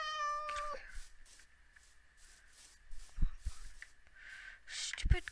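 In the Minecraft video game, a cat gives a short meow near the start, followed by scattered soft clicks, taps and a few thumps, fairly faint.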